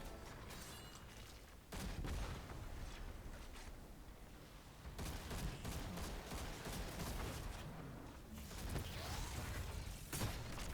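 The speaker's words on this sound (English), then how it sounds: "we're going to finish him with a machine gun" Gunfire and combat effects from the video game Destiny 2: Lightfall, with dense bursts of rapid shots and impacts running almost continuously at moderate loudness, punctuated by heavier blasts.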